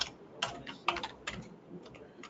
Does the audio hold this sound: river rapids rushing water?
no